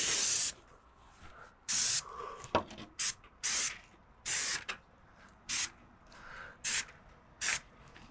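Repeated short bursts of an airless paint sprayer hiss loudly, about ten sprays of varying length separated by quiet pauses.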